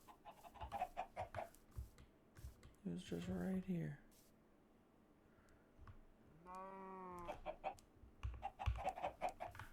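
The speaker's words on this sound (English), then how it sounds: "Where did the little chicken go?" A Minecraft chicken in the Create Mod gives two short bursts of clucking between quick clicking game noises and footsteps, while a voice speaks briefly.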